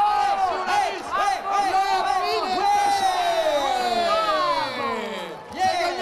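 A large crowd at the 1998 Intervilles TV game contest in Aire-sur-la-Lys, France, roars and cheers continuously, loud and close, with excited shouts rising and falling throughout; no distinct clapping stands out.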